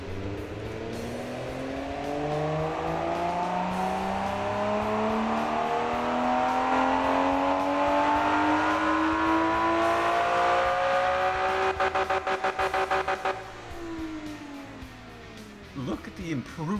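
A car engine in the Automation game, tuned with variable valve timing, revs up steadily through its range for several seconds and then drops off with a few sputters, staying loud and close throughout.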